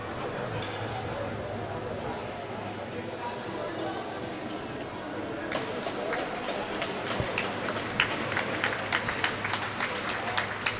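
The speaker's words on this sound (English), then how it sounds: "Getting a clap from the ever-building crowd here." Spectators applaud at a masters inline hockey world championship game between the USA and Switzerland in an indoor rink, the claps building from a low crowd murmur into a dense burst of hand clapping in the last few seconds.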